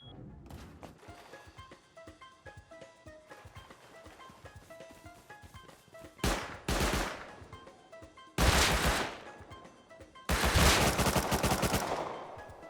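Automated turret in the game Rust firing at raiders, starting with sparse scattered shots and building into several loud rapid bursts of automatic fire near the end.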